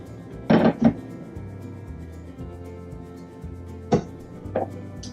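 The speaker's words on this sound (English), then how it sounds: "And now I'm going to mash the potatoes for the topping to our shepherd's pie." Cooked potatoes are mashed for a shepherd's pie topping in an RV kitchen, with a few loud, close thuds and scrapes of the masher against the pot in two pairs, separated by quieter stretches of low background hum.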